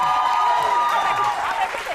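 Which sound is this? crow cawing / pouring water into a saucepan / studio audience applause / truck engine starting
studio audience applause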